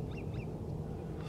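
Ducks on a pond at a bird preserve give a few brief quacks over a low steady outdoor background, faint and somewhat distant, with no talking.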